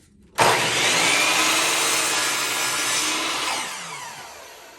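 A power saw rips through a miter cut on wooden baseboard, starting abruptly and holding a loud, bright whine for about three seconds before winding down.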